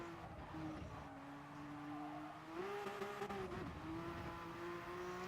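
Race car engines in Gran Turismo Sport drone steadily at a sustained pitch, rising and dipping slightly as the cars shift through a corner, with a faint hiss of tires beneath.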